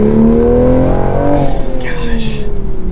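A Toyota GR Supra of about 400 horsepower accelerates hard, its engine note rising steadily in pitch and then dropping back briefly before climbing again, loud and close, with a voice speaking over the top.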